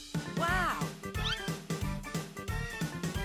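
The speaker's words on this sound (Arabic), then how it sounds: "مياو" A cat meowing several times in a row, close and clear, with rising and falling cries packed together.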